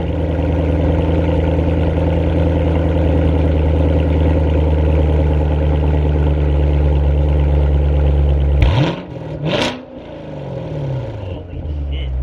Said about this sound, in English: we're going to show you guys again what it sounds like with the Borla X pipe with the valves open